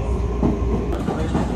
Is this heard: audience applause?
no